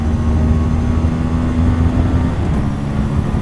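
An Aprilia RS 457 sport motorcycle engine pulls steadily in second gear with the airbox open, a close, constant droning note that shifts pitch slightly near the end, with no talking.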